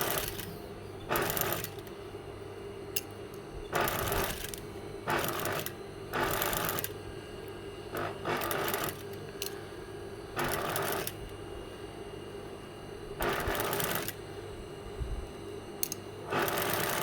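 A domestic sewing machine stitching a shirt sleeve in short loud bursts of rapid mechanical chatter, about seven runs separated by quiet pauses, close up with no talking.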